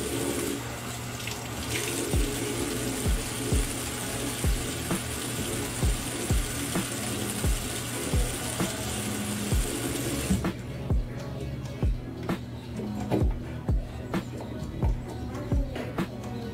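Hot water pours steadily from a tap onto hair during a home big-chop haircare session. The constant splashing stream runs close by, then turns duller and softer partway through, with faint periodic bumps.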